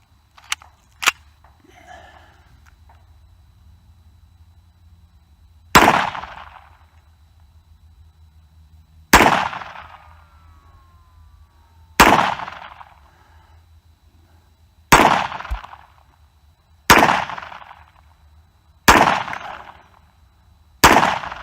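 A cheap handgun firing its first magazine outdoors, single loud sharp shots with ringing decay, spaced a few seconds apart and close, with no talking.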